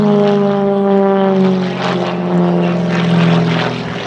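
A single-seat XA41 aerobatic propeller plane with fixed undercarriage performs at the Dunsfold Air Show, its engine droning loud and steady with a shifting pitch as it manoeuvres, heard alone without talk.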